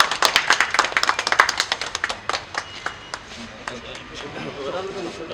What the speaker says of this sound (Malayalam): എല്ലാരും കൈയടി കൊടുത്തേ കൈയടി കൊടുത്തേ